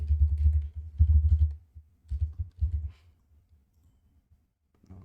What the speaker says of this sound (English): now I'm gonna type the right